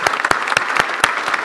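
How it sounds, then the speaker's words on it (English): Applause from an audience at an Empire Club luncheon talk, a steady patter of clapping hands with sharper individual claps standing out, close and fairly loud throughout. "You should probably clap your hands."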